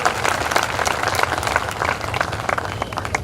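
Crowd applauding a welcome at a political rally in Bihar, dense continuous clapping from many hands, loud and close, with no talking over it.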